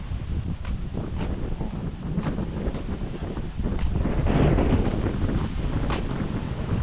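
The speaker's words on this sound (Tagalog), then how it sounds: "malakas yung hangin ah" Strong wind buffets the microphone in a continuous loud roar, swelling midway, with no voices heard.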